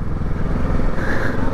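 A motorcycle being ridden close by, its engine a steady, slightly rough drone with small fluctuations throughout, no voices over it.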